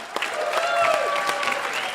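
Audience at a congressional district debate hosted in a church applauds steadily, a dense, loud patter of clapping from a crowd that continues across the whole moment with occasional cheers mixed in.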